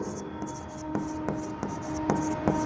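A pen scratches out narration in an accounting journal entry, with short strokes and taps at an uneven rhythm, close up and moderately loud against a faint steady hum.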